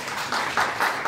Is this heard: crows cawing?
no